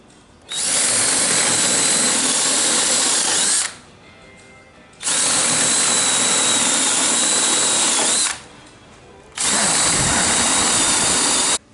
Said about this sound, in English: So we're going to drill our 5/8 hole into the cedar as clearance for right now.